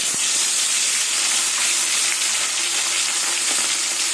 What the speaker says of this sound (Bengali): এবার আমি ট্যাংরা মাছগুলো তেলে দিয়ে দেবো।